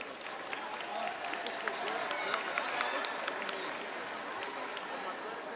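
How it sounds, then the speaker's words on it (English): Crowd applause at a school gathering honoring the homecoming court: scattered, distinct claps over a murmuring audience, steady at moderate loudness with voices underneath. "How about a nice round of applause for the entire group?"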